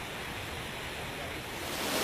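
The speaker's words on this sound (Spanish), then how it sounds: "una cascada de agua caliente y otra de agua fría, las dos en un mismo lugar" Steady broadband rush of cascading water from side-by-side hot and cold waterfalls in Ecuador, a continuous close roar that swells slightly louder near the end, with no talk.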